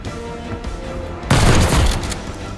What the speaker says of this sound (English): Man, I shot that man in his head.